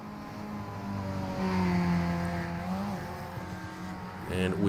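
A Mazda MX5 race car engine drones in an iRacing four-hour endurance race at the Burg, a steady, buzzing hum whose pitch shifts and swells as a faster car closes in, heard without talk.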